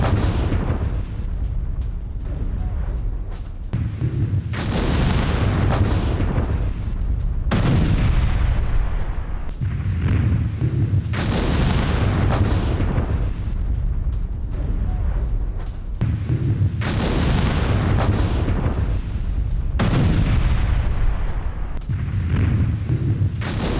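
Airstrike bombing and artillery fire from US and UK strikes on Yemen around Hodeidah airport in news footage: heavy booms and rumbling blasts roll in repeated waves, loud and continuous, with no speech.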